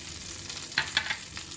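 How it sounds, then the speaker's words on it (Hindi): Green chillies and ginger fry in hot oil with cumin for Mughlai dum aloo, a soft steady sizzle with a few brief crackles and stirring scrapes, fairly quiet and close. "इनको 1 मिनट के लिए भूनेंगे अच्छे से।"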